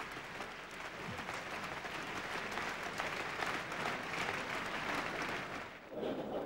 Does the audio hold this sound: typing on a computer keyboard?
no